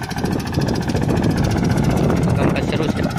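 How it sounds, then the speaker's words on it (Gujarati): A small tractor's engine runs during groundnut sowing in a field, a loud, close, steady rattling chug with a pulsing beat throughout. "તો ટ્રેક્ટરથી વાવણી શરૂ કરી।"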